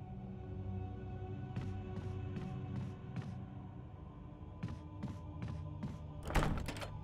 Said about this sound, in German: Tür ist verschlossen.